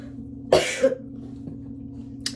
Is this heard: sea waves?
no